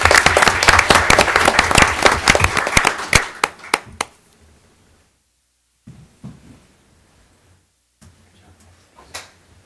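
Loud applause for teachers at a school board meeting, many people clapping together before it thins out to a few last claps and quiet room noise with occasional small knocks.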